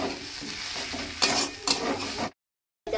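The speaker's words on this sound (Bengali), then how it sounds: "এবার ভালো করে নেড়ে দিচ্ছি" Fish eggs being stirred and fried in a little oil, with steady close sizzling and scraping strokes of a spoon in the pan that swell twice, then a brief silence.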